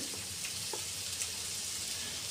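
Mustard oil frying in a pan, a faint continuous sizzle with a few small pops and no speech.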